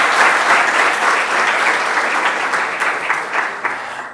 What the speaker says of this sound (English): I will invite them to give you a round of applause